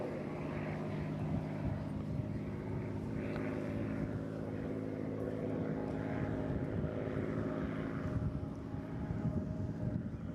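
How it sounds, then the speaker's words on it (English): Vintage propeller aircraft flying at the Eastbourne International Airshow, a steady, loud engine drone that holds throughout with slight swells, heard alone without talk. "Being gently flown, of course, never over-stressing any of these vintage aircraft."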